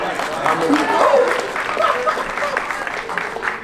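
A small group claps steadily for a few seconds, moderately loud and close, with some voices underneath.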